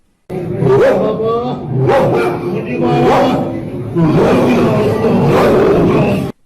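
A man in a Sufi zikr gathering imitates a dog with loud, repeated, rhythmic barking cries, voiced among other participants and crowd noise.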